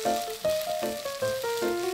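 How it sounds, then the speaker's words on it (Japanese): Onions fry in a pan for Japanese ginger pork, a close, continuous sizzle with repeated stirring pulses and faint tonal squeaks as they are moved around. "私は薄く玉ねぎを切れなかったので玉ねぎを炒めてからタレを入れることにしました。"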